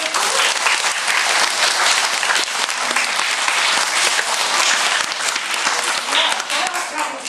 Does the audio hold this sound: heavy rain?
no